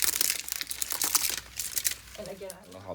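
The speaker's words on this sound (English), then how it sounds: "It's so many like layers of packaging." Plastic packaging of an LOL Surprise toy crinkles and crackles in busy, close bursts as layers are unwrapped, with a voice talking over the rustling toward the end.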